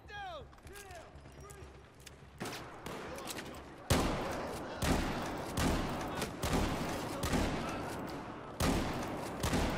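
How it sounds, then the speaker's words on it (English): Random gunfire in Battlefield 4: a few scattered shots and mechanical clicks at first, then from about four seconds a steady run of loud, close gunshots in uneven bursts, with reverberant tails between them. "I would call that pretty pro, just randomly shooting."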